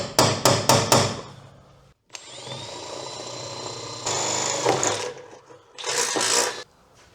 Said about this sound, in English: I'm gonna punch a hole and drill for an M8 bolt.